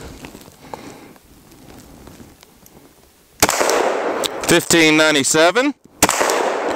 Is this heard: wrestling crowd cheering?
no